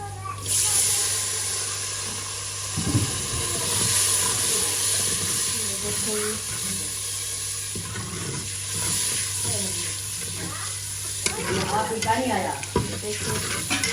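Ginger paste frying in a pan with onions that were already fried, a steady sizzle and hiss with occasional stirring scrapes, while someone talks over it.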